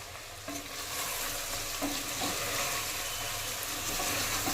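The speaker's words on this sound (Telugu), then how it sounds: "కారం వేసుకున్నాక తలకాయ కూర అనేది కాసేపు ఫ్రై అవ్వనివ్వాలి" Goat head curry frying in a pan after chili powder goes in, a steady close sizzle with occasional stirring scrapes, continuous and fairly loud throughout with no voices.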